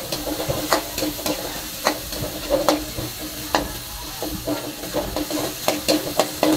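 Native chicken cooking in a pan with ginger: steady sizzling and hissing broken by sharp clatters of stirring, close and fairly loud, with no talking.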